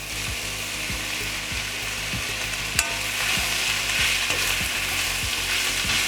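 Fresh chopped spinach sizzling and frying in a hot pan during preparation of a cheese-smothered spinach artichoke dip, a steady crackling hiss with rhythmic scraping stirs, one sharp clink partway through, no voices.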